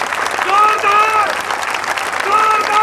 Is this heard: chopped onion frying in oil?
no